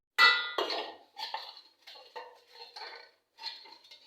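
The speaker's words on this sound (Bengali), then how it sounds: "আমি আরেকটা প্লেটে মাখাই নেব। এখানে প্রথমে মাছগুলো ঢেলে নেব," Fish pieces are tipped from a pan onto a plate, making several close metallic clinks and scrapes of utensils against dishware in short bursts separated by brief pauses.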